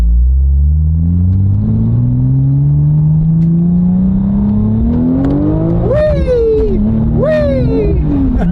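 A turbocharged car pulls away on a road in second gear, its engine note climbing steadily and loud from inside the cabin, then a turbo whistle and whine rise and dip near the end.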